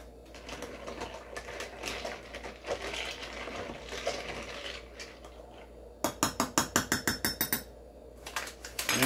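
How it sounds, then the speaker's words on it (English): A spoon stirs a Pedro Collins cocktail topped with club soda in a glass, giving a quick series of bright, rhythmic clinks after a few seconds of softer clatter, close and clear. "And give it a stir."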